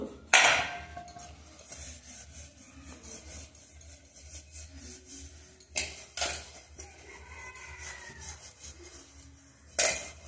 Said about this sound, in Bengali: দেখুন বাটিতে আমি তেল মাখিয়ে নেব।